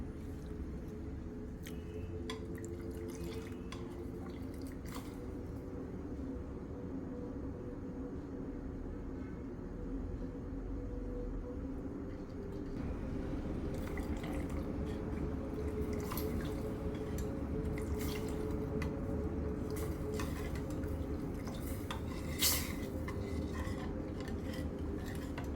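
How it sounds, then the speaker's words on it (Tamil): A spoon stirs warm coconut milk in a pot for kurakkan milk puttu, with soft scraping and light clinks over a steady simmering hiss that grows a little louder midway. "இதை கரண்டியால் இந்த மாதிரி பாலை கொஞ்சம் கிளறிக்கிட்டே இருக்கணும்"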